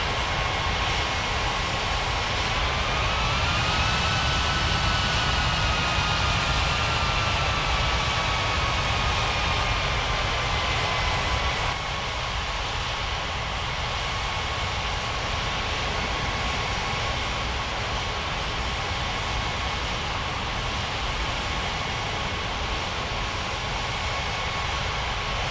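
Airliner taxiing on the runway, a loud, steady jet engine whine and broad roar holding constant, with a tone that rises and slowly falls before settling.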